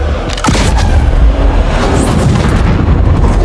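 Heavy cannon fire and a deep explosion from a spice harvester in the film Dune, a loud sustained boom with rumbling blasts and a sharp crack near the start, alone without talk.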